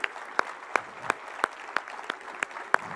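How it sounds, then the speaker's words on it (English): Conference audience applauding the hack team, with a light crowd of clapping punctuated by evenly spaced loud, sharp claps close by, repeating roughly every third of a second. "Big applause for them."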